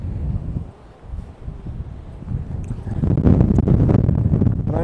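Wind buffets the microphone outdoors in a low, rumbling roar that eases briefly, then swells louder and steadier for the last couple of seconds, with no voices.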